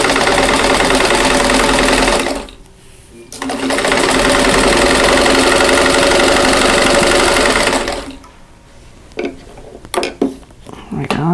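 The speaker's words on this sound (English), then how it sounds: "So let's go ahead and sew that." A sewing machine stitching a quilt block, loud and close, running steadily in two long stretches separated by a short pause, then stopping, followed by small clicks and handling noises.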